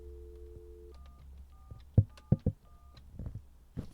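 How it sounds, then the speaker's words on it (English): Mobile phone keypad dialing, a short series of distinct electronic tone beeps spaced unevenly over a few seconds, with soft handling clicks and taps between them, close and quiet. "The best thing I have to whip out right now, though, is just my phone. You hear that bad boy? Let's dial some numbers."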